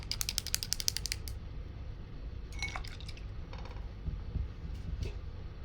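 A paintbrush swished and tapped in a water cup during an acrylic painting session, a quick rattling burst of clicks at first, then quieter scattered knocks and sloshes against a steady low background hum.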